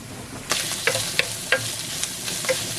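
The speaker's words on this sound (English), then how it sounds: "I'm going to put these right in the skillet too" Tomatoes sizzling in a skillet with bacon, a close steady frying hiss punctuated by a handful of spatula scrapes and taps at irregular intervals.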